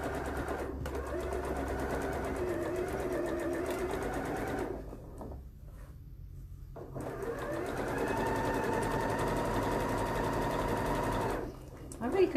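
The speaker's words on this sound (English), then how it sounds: "stitch around the pocket." A sewing machine stitches around a pocket with French seams, running in steady buzzing bursts that stop briefly twice, close and moderately loud.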